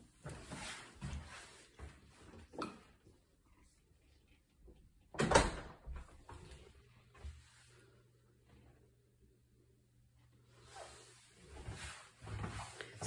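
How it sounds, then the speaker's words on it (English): A door into a rented house swings open at the second entrance past the porch, giving one loud, sharp knock or latch clunk midway. A low hum and faint movement run before and after it. "And then through the second door."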